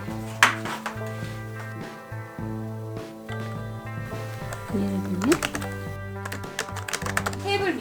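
Rapid, steady typing on a Bluetooth keyboard with crisp clicking keystrokes, playing under a continuous musical backdrop with occasional chimes.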